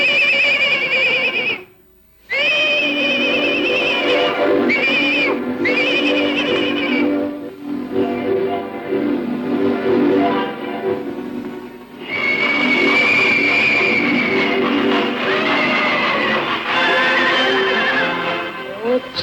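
Magic horses neighing in a 1947 animated film: loud, drawn-out, high whinnies with strong tonal ringing, repeating in long calls with a short break near the start.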